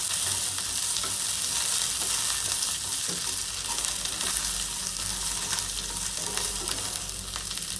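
Okra frying in oil in a pan for bhendi bhaji, a dense, even sizzle that runs close and unbroken with faint stirring throughout and no talk.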